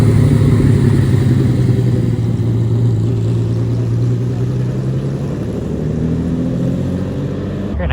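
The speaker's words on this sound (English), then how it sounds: "Cars are still pulling into Daikoku." Cars rolling into the Daikoku car meet in Japan on New Year's, a close, loud engine idle and low rumble holding steady throughout, with traffic noise behind it.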